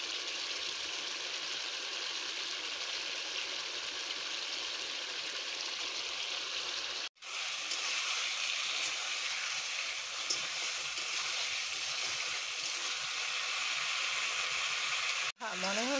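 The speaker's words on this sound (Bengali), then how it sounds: "এইবার কিন্তু ফুটছে টকবক টকবক টকবক টকবক করে।" Egg curry bubbles at a boil in a pot, giving a steady, close hissing burble that carries on evenly. Two short cuts break it.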